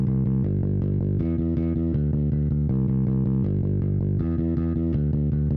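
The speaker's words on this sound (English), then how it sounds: "Lastly, for bass, I used the Contact Scar-B pre-bass" Contact Scar-B electric bass run through Decapitator saturation and bass amp effects, playing a steady stream of distorted, gritty eighth notes that shift pitch every bar, loud and alone.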